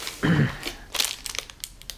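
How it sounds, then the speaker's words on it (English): Cardboard box and wrapper of a Soylent food bar being opened, a loud crinkling crush followed by a series of quick tearing and rustling sounds, close up. "let's go ahead and unbox it and give it a try."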